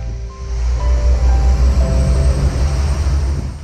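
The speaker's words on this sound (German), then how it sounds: "wie hier auch der Zug aus Richtung Sangerhausen zur Weiterfahrt nach Magdeburg" A regional passenger train from Sangerhausen pulling into Klostermansfeld station, bound for Magdeburg: loud, steady low rumble of wheels and engine with faint tonal squeals, heard close with no talking.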